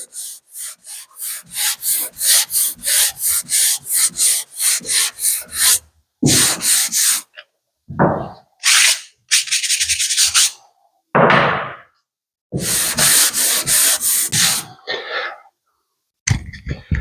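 Hand block sanding of primer on a car body panel near a body line, with repeated rhythmic rasping strokes, then a few separated bursts of scraping, close and loud with no talking.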